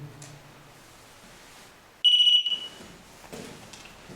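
A REM pod alarm at East Tilbury Battery gives a shrill, steady electronic beep once for about half a second, loud and close against a quiet room background.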